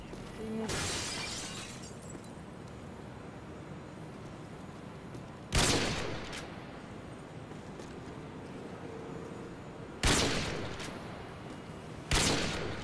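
Gunfire from Call of Duty: Modern Warfare 2 on the Reefs map, several sharp loud shots spaced a few seconds apart over a steady hiss of game ambience.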